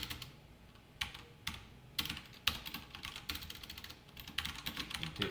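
Code is typed on a computer keyboard in quick, close clicks and clacks, falling in irregular bursts with short pauses and no talk.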